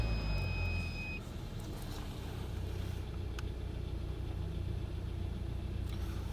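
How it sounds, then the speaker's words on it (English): A Hyundai car engine idles steadily with a low, continuous rumble close by, preceded by a brief start-up surge; no talking. "So I'm gonna go ahead and start the car."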